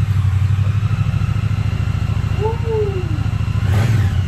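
A 2020 Triumph Bonneville T100 motorcycle engine runs close by with a steady, throbbing low rumble that swells slightly near the end, while a person cheers briefly over it.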